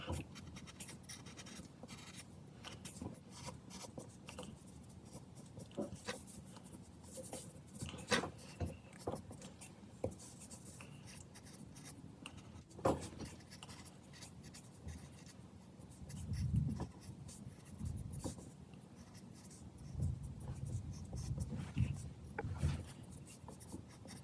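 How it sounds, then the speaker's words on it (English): Pencil sketching on paper while drawing Shimo from Godzilla x Kong, steady close scratchy strokes with intermittent taps and rubbing, continuing quietly for a long stretch with no talk. "start to draw Shimo's detail on the leg"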